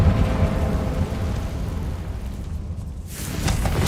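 A Confringo fire spell explodes in Hogwarts Legacy, a loud, deep booming blast with rumbling fiery crackle that sustains, dips briefly, then swells again near the end.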